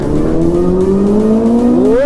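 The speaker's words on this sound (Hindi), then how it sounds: "तो गाइस देख सकते हो रोड में कैसा हल्ला हो रहा है।" Motorbike engines rev on a busy road during a ride on a Kawasaki ZX10R, a loud, close, sustained engine drone whose pitch climbs steadily, rising sharply at the end as the throttle opens.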